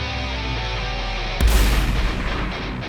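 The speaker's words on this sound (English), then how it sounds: "A little bit of shotgun blast there for you." A single heavy shotgun blast sound effect layered into a rock song's background, a sudden deep boom that cuts through the sustained music midway and decays with a rumbling tail.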